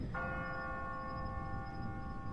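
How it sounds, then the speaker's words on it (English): A church bell in the video game Persona 3 FES strikes once and hangs in a long, steady ringing tone that barely fades, clear and alone over a low background hum. "But the bell isn't fading away, apparently."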